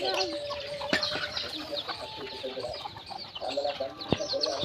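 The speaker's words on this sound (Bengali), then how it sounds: "এইগুলো দিদার সব মুরগি" Domestic chickens cluck repeatedly at close range in a home yard, with short scattered calls over background murmur and someone talking at times.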